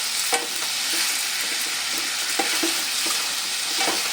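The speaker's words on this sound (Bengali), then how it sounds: "গ্যাসের ফ্লেম মিডিয়াম রেখে কিন্তু এটা বারবার আমি নেড়ে চেড়ে নিচ্ছি, নইলে কিন্তু তলায় লেগে যাওয়ার সম্ভাবনা থাকে।" Potatoes with salt fry over a medium gas flame and are stirred again and again. A spoon scrapes and taps the pan in a loose rhythm over a continuous, nearby sizzle.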